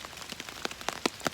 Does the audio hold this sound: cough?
no